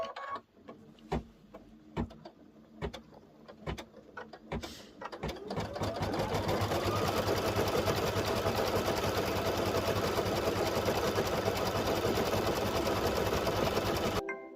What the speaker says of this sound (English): This time it will stitch the lining through onto the back of the hoop